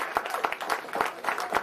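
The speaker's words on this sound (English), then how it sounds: "Let's give that brother a round of applause." Audience at a talk clapping for a man in scattered, uneven claps of moderate loudness, sparse rather than a full ovation, with voices mixed in.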